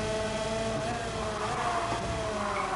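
Go-kart engine in Gran Turismo 7, a continuous buzzing drone that rises slightly in pitch as it revs, loud and close with no talk over it.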